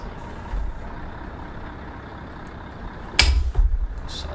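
Parking air brake being set on a Scania LK truck, heard as a sudden loud hiss of released air followed by a second shorter burst, close by over a low idling rumble.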